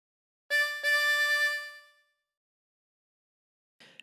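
Two quick drawn notes on a 24-hole tremolo harmonica, breathed in through hole 10, the second following closely on the first and ringing longer with a wavering shimmer. Silence follows, then a faint brief noise at the end.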